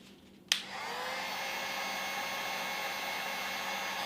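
A hair dryer or heat gun switches on abruptly and then blows at a constant, even whoosh while heating carbon fiber vinyl film on BMW F30 interior trim.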